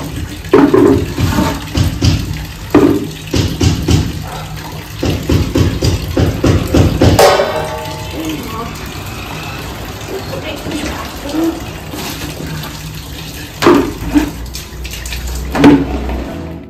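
A thin stream of water runs from a household supply line, a continuous splashing hiss beneath frequent talking and some clattering knocks nearby.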